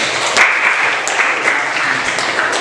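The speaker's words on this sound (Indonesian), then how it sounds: "Tepuk tangan." A classroom audience gives a short burst of steady, lively applause during a school religious studies lesson, with the clapping continuous and fairly close throughout.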